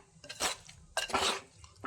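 Mango pickle is mixed in a clay pot, giving two bursts of scraping, clattering stirring with a wet, squelchy edge, close and moderately quiet, with no talking.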